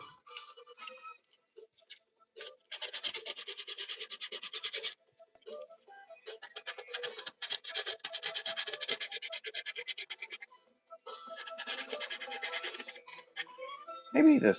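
Coarse sandpaper rubbing over a custom painted figure, with bursts of close scratchy rasping strokes separated by short pauses, and a brief louder handling thump at the end.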